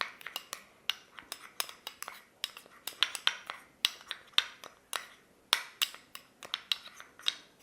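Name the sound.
mixing a face pack with curd in a bowl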